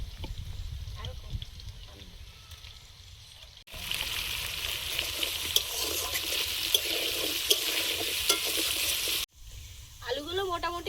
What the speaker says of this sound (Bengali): আলুগুলো ভেজে নেব।